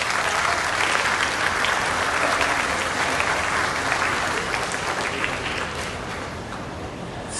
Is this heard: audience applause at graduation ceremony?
yes